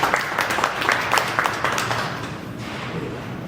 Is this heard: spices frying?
no